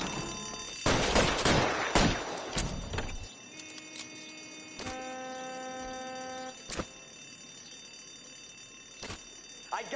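Gunfire in the video game L.A. Noire: a rapid burst of loud shots up front, then sparser single gunshots spaced out among ringing tones and background game noise.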